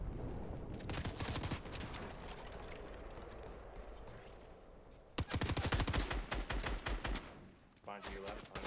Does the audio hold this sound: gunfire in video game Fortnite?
yes